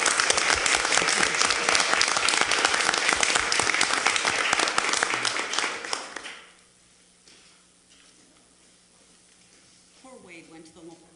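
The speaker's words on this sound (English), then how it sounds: "I would like the audience to give a round of applause to our soccer boosters for their generous" An audience at a school board meeting claps for the soccer boosters, loud dense applause for about six seconds before dying away to a quiet room with faint murmurs and stirring.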